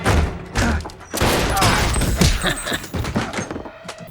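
Automatic weapons fire in a dense, continuous fusillade of overlapping shots and thuds, loud and close throughout with no pause.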